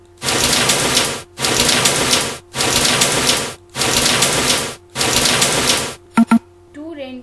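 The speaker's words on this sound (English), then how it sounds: "This is rain." Five steady bursts of rain-like hiss from the Tux Paint rain magic tool, each about a second long with short gaps, followed by a couple of sharp clicks and a faint trailing tone.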